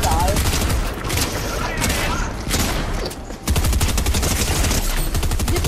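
Rapid video game gunfire crackles in dense, continuous bursts with a brief lull midway, loud and close, while players talk over the shooting.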